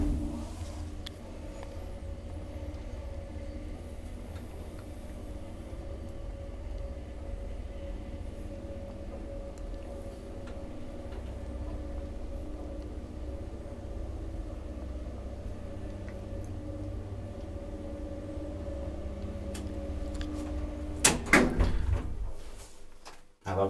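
A 1970 Kone traction elevator in an apartment building in Lahti travelling between floors, a steady low mechanical hum and faint whine running throughout, ending in a cluster of clanks and door thuds as the car stops.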